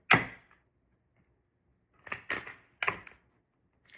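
Playing cards are shuffled in short, crisp riffling bursts: one quick flutter, a pause, then three rapid clattering riffles close by.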